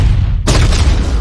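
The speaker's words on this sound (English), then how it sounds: "Did I mention the big explosion?" A big, sudden boom from a video game explosion erupts midway after a rumbling lead-in, loud and close, with a heavy rolling tail afterward.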